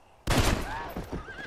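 A horse in the video game Red Dead Redemption gives a loud whinny that breaks in abruptly with a burst of noise, then trails off in wavering high cries.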